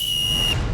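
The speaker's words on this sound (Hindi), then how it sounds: "ट्विंकल इज बैक एंड ये जो राउंड है वो वापस रिज्यूम किया जाएगा रेफरी के सीटी के बाद" A referee's whistle sounds during a baton-grabbing round of a reality competition show: one steady, shrill blast lasting about half a second, loud and close, then cutting off against low background noise.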